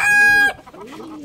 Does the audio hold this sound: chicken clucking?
yes